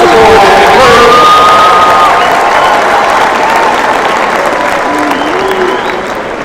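A commencement ceremony audience breaks into loud, sustained applause for graduates' relatives and friends, a dense wash of clapping with scattered cheers and whoops that holds steady, then eases slightly toward the end.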